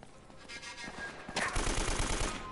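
Gunfire in the video game Uncharted: Drake's Fortune: rapid automatic bursts rattle steadily, then grow louder and denser into sustained fire, thick with noise and heavy low thumps.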